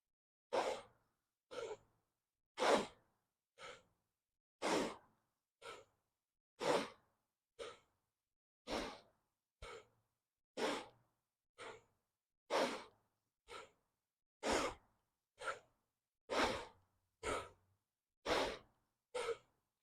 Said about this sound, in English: Sharp inhale, sharp exhale, both through your nose.